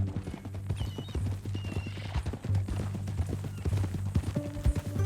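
Steady clip-clop of horse hooves walking at an even pace in the video game Red Dead Redemption, with a low rumbling bed underneath and occasional snorts.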